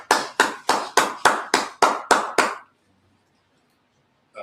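Nine loud, evenly spaced claps from a Sabbath service congregation striking in unison, each sharp with a short decay, then an abrupt stop into near silence.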